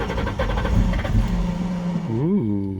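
An abandoned Mustang GT engine cranks over with a quick rhythmic churning from the starter, then briefly catches with a rising and falling rev before dying away, close and moderately loud.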